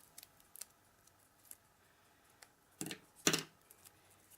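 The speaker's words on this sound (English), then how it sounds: "I've taken the 2 largest circles, and you just snip them" Scissors snip paper circles for a shaker card in a few light, close cuts, scattered quiet clicks leading up to two sharper snips.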